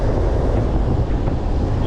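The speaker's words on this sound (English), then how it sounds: "The waves coming over the side" Waves wash over the side of a jetty at South Padre Island near Corpus Christi, Texas, as a loud, continuous roaring surge. Heavy wind rumble hits the microphone the whole time, and no one speaks.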